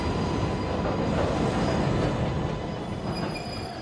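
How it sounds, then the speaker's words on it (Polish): A train rolls past in Marvel's Spider-Man 2, its wheels rumbling and squealing on the rails as a loud, steady roar that fades slightly toward the end, with no talk over it. "Pociąg!"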